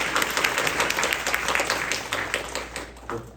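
A church congregation applauding during a Sunday service, dense overlapping claps that gradually thin out and fade toward the end.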